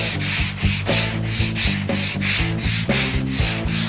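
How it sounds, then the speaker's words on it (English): A soft sanding block fitted with a single sheet of sandpaper rubs back and forth across a thin sheet-metal auto body panel, giving loud, steady, rhythmic scraping strokes close up with no talk. "Now with a single piece of sandpaper on the block, you can see it does a nice job of blocking"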